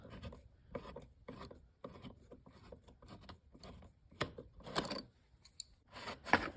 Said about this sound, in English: Now we're gonna take this clamp off.